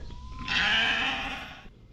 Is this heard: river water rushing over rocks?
no